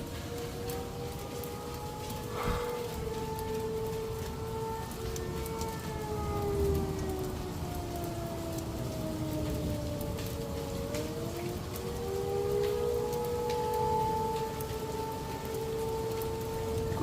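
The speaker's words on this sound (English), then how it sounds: "sirens are going off." Tornado warning sirens in Texas wail in long, rising and falling tones through a steady hiss of heavy rain, loud and sustained, with no voices.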